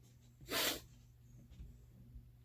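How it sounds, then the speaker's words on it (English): A single sharp sneeze bursts out near the start, followed by quiet breathing and faint room noise. "as I was going to start sneezing"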